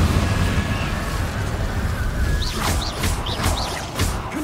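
Incendio fire spells are cast in Hogwarts Legacy: a steady, loud roar of flame and crashing bursts, with rising whooshing swishes repeating over the last couple of seconds.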